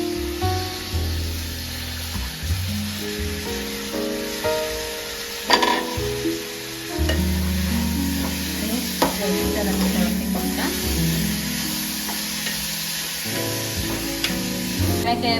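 Chopped cabbage hits a hot pan and sizzles loudly, with a spoon scraping and stirring in irregular strokes and occasional clatters over the steady frying hiss.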